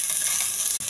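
Onions and curry leaves frying in a little oil in a pan on a stove, a steady bright hiss and sizzle throughout, close and loud.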